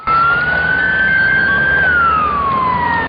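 A loud emergency siren at a road crash scene where ambulances and police were sent, one long rising then falling wail sounding close and dominating, with no speech.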